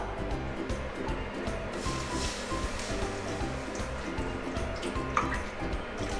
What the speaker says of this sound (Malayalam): ഇതിലേക്ക് 2 കപ്പ് പാൽ ഒഴിച്ചു കൊടുക്കാം.